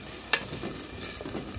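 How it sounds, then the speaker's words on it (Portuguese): Beans stirred into sautéed onion, tomato, pepper, garlic, green onion and coriander in a pan give a soft sizzle with a sharp scrape near the start and light stirring scrapes after. "Vou botar no feijão. Vou botar o feijão aqui dentro,"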